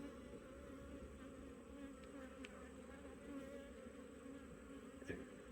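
Honey bees at an open hive hum in a dense, continuous buzz, calm and fairly quiet, with a few individual bees droning closer past the listener now and then.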